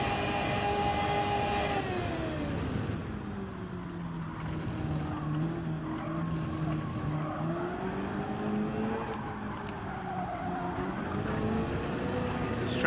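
A race car engine screams in the Gran Turismo 7 video game during a time trial. The loud, sustained whine dips in pitch, then climbs again as the car accelerates, with faint tire noise underneath.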